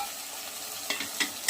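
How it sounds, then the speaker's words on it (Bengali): Diced potato pieces tumble into a pan of frying mutton mince, giving a steady soft sizzle broken by three brief louder scraping bursts near the end, close and without talk. "তো আলুটা আমি ঢেলে দেবো"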